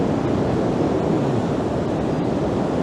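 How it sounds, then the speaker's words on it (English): Rough sea surf at Blackpool churns in a constant loud wash, mixed with wind buffeting the microphone, with no distinct individual breakers. "I'm frightened this sea's going to splash up here and get me."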